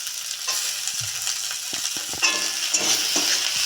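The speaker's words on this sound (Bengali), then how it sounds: "দিয়ে হালকা ভেজে নিয়েছি।" Garlic, ginger and capsicum fry in a pan for Maggi noodles, giving a steady close sizzle with a few scraping stirs and clinks and no talk.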